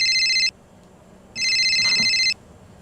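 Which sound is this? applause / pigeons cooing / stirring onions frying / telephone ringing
telephone ringing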